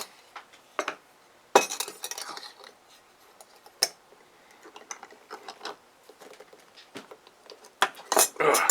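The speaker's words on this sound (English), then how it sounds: "I'm going to try to use this pry bar. As a kind of blunt chisel." A pry bar used as a blunt chisel clinks and scrapes against a metal PC case, giving scattered sharp metallic taps and rattles, some louder bursts near the end, close up in a quiet room.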